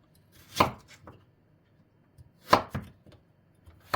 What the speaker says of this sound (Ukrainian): нарізаємо ще й моркву